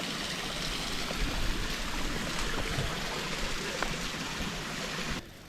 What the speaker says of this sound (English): I've made it to the end of the trail and the main waterfall.